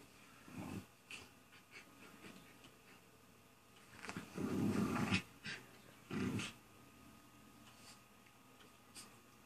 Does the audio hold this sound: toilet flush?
no